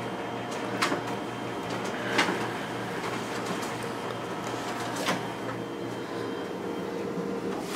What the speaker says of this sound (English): And we'll just go ahead and run that through once.